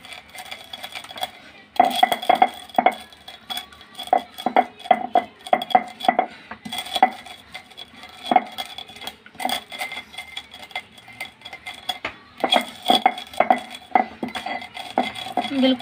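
Warm pan-roasted spices ground by hand, heard as a close run of rhythmic clinks, knocks and grinding scrapes in uneven bursts with short pauses between them.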